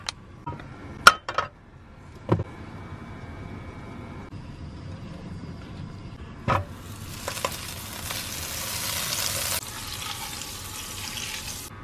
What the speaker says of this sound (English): Okay, let's go melt our butter.